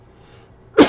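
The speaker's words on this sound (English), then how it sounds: "So I'm gonna cough, clear my throat" A single short, harsh throat-clearing burst near the end, following a stretch of faint background hiss.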